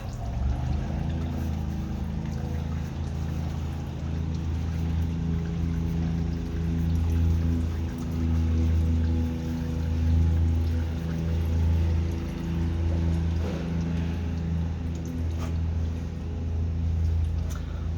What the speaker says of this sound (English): Oil's just about empty. We just got a slow drip